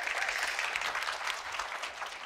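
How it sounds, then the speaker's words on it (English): Audience applause fills a hall at a DreamWorks Animation evening talk on Puss in Boots: The Last Wish, a dense, steady wash of many hands clapping continuously at an even level throughout. "I'll take all the claps for all the team that worked really hard on the movie."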